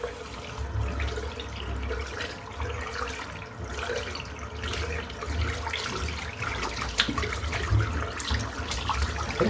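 A shaving brush rinsed under a running tap, a steady rush of water splashing into a sink with soft sloshing as the brush is worked, close by and continuous without any talking.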